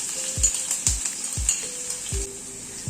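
Five or six crushed garlic cloves sizzle in hot oil with black cumin for a tempering, a steady bright hiss broken by several sharp clinks of a spoon against the pan.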